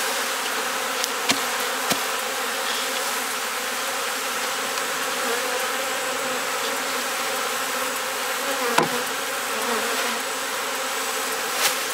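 A small honey bee swarm being shaken down into a box gives a steady, dense buzzing drone throughout, close and even, with a few sharp knocks and bumps against the box and no talk.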